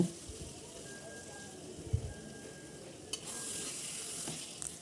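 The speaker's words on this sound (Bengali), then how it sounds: "কষানো হয়ে গেলে তার মধ্যে আলু ও টমেটো দিয়ে ভালো মতো কষিয়ে নেব" Potatoes and tomatoes sautéing in a thick masala for a broiler chicken curry, a low, soft sizzle with a thump and occasional stirring scrapes, fairly quiet throughout.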